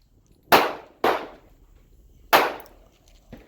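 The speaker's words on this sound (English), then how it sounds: "So here we go. I'm shooting 100 rounds." Three sharp, loud gunshots from a Rock Island Armory M1911 A1 .45 ACP pistol firing 230 grain ball ammunition, spaced irregularly with short decaying echoes, followed by a faint metallic click.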